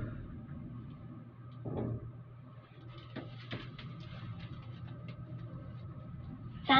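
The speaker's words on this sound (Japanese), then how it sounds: "Door closing." A Mitsubishi elevator door slides shut, with a low steady hum under faint mechanical clunks and rattles, followed by a brief bright chime at the end.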